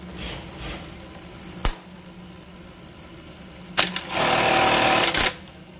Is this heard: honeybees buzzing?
no